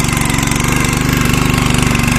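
A small hill tractor engine runs steadily in a farm field, a loud, close, rapid mechanical chugging that holds constant throughout with no voices.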